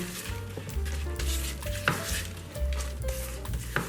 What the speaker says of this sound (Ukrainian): Перемішуємо і наш крем готовий